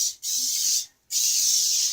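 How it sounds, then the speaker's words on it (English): Two bursts of butter cooking spray from an aerosol can mist onto baked empanadas, a short hiss and then a longer, steady one with a brief pause between, close and alone. "spray them just lightly so they'll crisp up"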